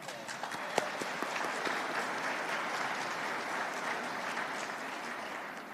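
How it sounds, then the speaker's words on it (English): A crowd at the Gold Star Families tree lighting at the State House claps for the kids, a dense, even patter of many hands with a few sharper nearby claps standing out early, sustained for several seconds. "a round of applause for the kids who were up"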